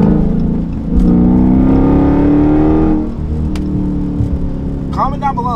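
A Dodge Challenger Scat Pack 392 engine revs up hard with a rising, straining drone, then eases off to a lower rumble, heard from inside the car amid highway road noise at night.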